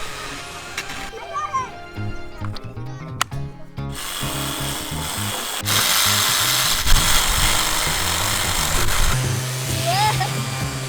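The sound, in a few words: electric drill running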